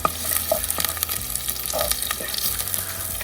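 Chopped onions and curry leaves fry in a pan on a wood-fired stove while being stirred, giving a steady, close sizzle with occasional scraping and clinking from the stirring throughout.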